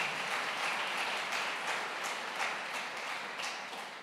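A church congregation claps together in a dense, steady wash of applause that carries on without a break, fairly soft and slowly fading toward the end.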